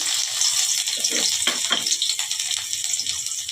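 Chopped garlic hits hot oil in a wok for a homemade pasta dish, giving a bright, steady crackling sizzle with a few soft stirs, close and alone with no voices.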